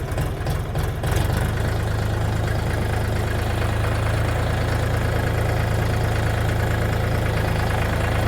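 A DTZ 5244HPX mini tractor engine runs steadily at close range, in first low gear with four-wheel drive, a low chugging idle with a continuous rumble throughout.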